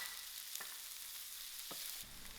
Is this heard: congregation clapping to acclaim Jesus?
no